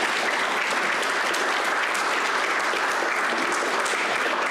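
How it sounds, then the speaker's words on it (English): A World Drowning Prevention Day event audience gives a sustained, dense round of applause, loud and even throughout with no talking over it. "And a big round of applause for all of them."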